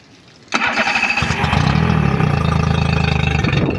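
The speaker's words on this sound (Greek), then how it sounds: "Είμαστε έτοιμοι να βάλουμε μπροστά, ήρθε η ώρα της αλήθειας." A Mercury 30/40hp outboard engine cranks briefly and catches, then settles into a loud, steady idle with a rapid rhythmic putter close by after a freshly replaced timing belt.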